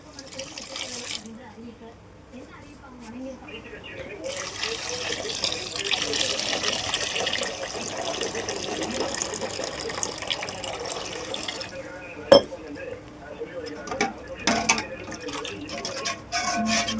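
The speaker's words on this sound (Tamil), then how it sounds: "இனி நிறைய தண்ணி ஊற்றுமா?" A steady stream of water gushes into a pot of rasam, running continuously for several seconds with a faint voice and a few clinks nearby.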